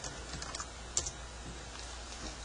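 Someone types quietly on a computer keyboard, a quick run of light key taps with one sharper keystroke near the middle, close and alone in a quiet room.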